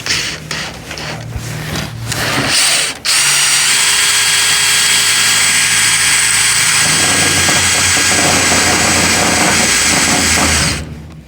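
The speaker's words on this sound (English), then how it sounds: "So I'm going to drill through my steel so I can put my screw in place." A power drill bores through steel channel on a horse barn build, starting with a few short bursts and then settling into one long, loud, steady whine close by that cuts off abruptly, with no talking.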